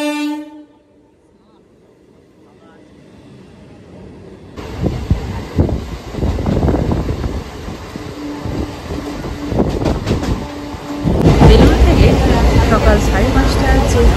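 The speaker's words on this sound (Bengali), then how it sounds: "সকাল 5:30টার যে হাওড়া কাটোয়া লোকাল, সেই ট্রেনটা ধরে নিলাম" A Howrah–Katwa local train at about 5:30 in the morning opens with a loud horn blast, then rumbles and clatters along the rails close and loud, swelling further toward the end.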